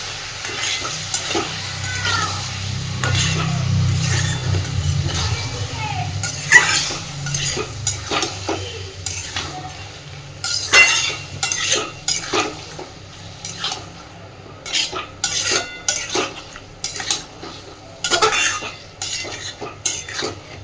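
A spatula works Kashmiri chili powder and other spices into a traditional Bengali lote (Bombay duck) fish curry in a pan. A steady sizzle runs under scattered metal scrapes and clinks that grow busier and sharper toward the end, close and without speech.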